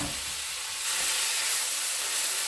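Dandelion greens and onions fry in a very hot skillet, giving a steady, close broadband sizzle that swells louder partway through and holds without pause, with no talking.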